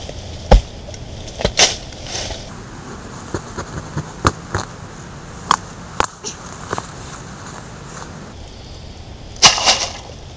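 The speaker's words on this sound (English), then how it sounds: "I'm going to dig through that big old nasty root." A hand digger chops into a big tree root in the soil while metal detecting, giving a series of sharp, irregular thuds and scrapes, close by, with quieter rustling in between.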